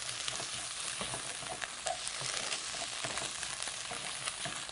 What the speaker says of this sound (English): So let's add some tomato paste. And we'll stir that in.